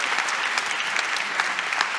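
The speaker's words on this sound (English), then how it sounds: "Give him a round of applause." Steady audience applause in a talk venue, a dense wash of claps at even loudness from start to end with no voices over it.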